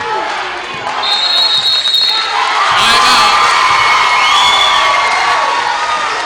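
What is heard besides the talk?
loud crowd cheering at girls' basketball game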